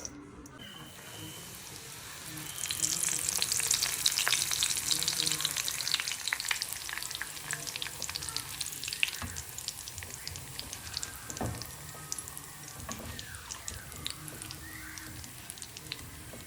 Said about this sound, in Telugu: ఇప్పుడు ఇందులో నేను అటుకులు ఫ్రై చేస్తాను